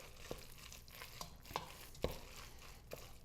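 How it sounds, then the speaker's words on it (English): Spoon stirring rice noodles and vegetables in a bowl, faint soft wet scraping broken by a few light clinks against the side, quiet and close with no talking. "You can just stir it with the spoon here"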